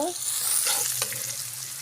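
Onions fry in a pan with a close, even sizzle and a couple of quick stirring scrapes, no talking.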